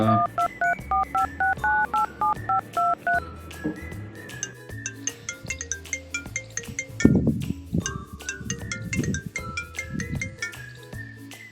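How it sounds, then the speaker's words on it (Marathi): A rapid series of phone keypad tones beeps out a number, then a ringing tone plays over soft background music. "चला फोन करतो, खूप दिवस झालं फोन नाही केला भावाला."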